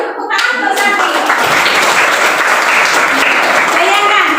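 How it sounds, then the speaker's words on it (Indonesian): A classroom of students breaks into a burst of applause for a student named Sakti, with loud, dense clapping sustained for several seconds as the teacher speaks over it. "tepuk tangan untuk Sakti"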